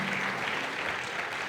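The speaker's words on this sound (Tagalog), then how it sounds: "palakpak sa Panginoon." A church congregation claps during a Sunday worship service, a brief, dense burst of steady applause from many hands filling the room at moderate distance.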